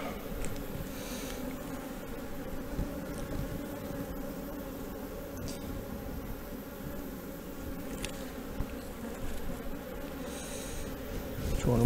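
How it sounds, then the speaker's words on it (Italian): Honeybees hum in a dense, steady buzz around an open hive at a queen-rearing apiary, with a few brief knocks and rustles over the constant drone. "ci sono tantissime api"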